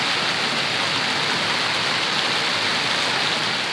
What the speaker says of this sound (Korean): 빗소리 들으면서